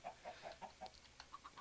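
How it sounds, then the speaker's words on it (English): Chickens in the modded Minecraft game Agrarian Skies cluck in a string of short, evenly spaced calls, about a dozen in under two seconds, moderately loud with no speech. "Man, you chickens are so obnoxious"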